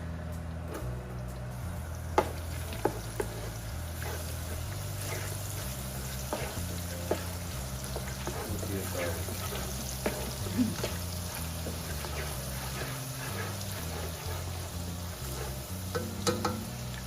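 Garlic fries in a little hot oil for a Thai curry with fresh lobster, a faint continuous sizzle with occasional stirring clicks and scrapes of a utensil throughout.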